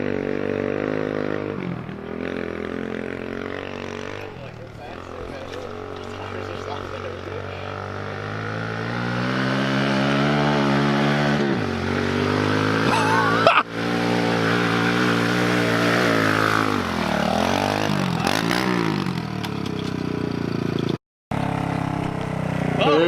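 A dirt bike engine drones and revs loudly for a long stretch, pitch rising and falling with throttle, briefly cutting out near the end.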